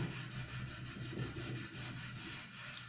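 Fine 1000-grit sandpaper scuffs clear lacquer on a guitar body, a steady close rubbing with a soft back-and-forth rhythm and no talk.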